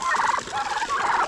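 Farm birds call loudly and close by in a couple of quavering, gobbling bursts with a short gap between them, with no speech.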